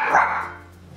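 A single sharp dog bark rings out nearby and fades quickly into a quiet room.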